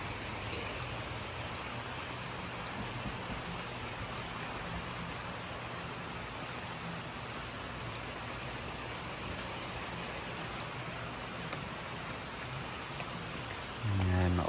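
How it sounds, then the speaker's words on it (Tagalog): Steady rain falls across a rural provincial setting, a dense, even hiss that holds at moderate level throughout and swells slightly louder near the end. "maulan na pero hindi pa masyadong malakas"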